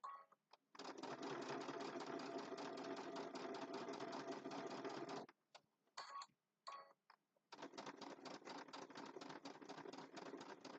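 A sewing machine stitches a triangle zipper bag in long, steady, rapid runs, loud and close. It stops briefly midway with a few short bursts, then resumes its continuous clatter.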